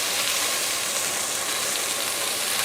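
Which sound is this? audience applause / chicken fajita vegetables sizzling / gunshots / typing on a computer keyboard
chicken fajita vegetables sizzling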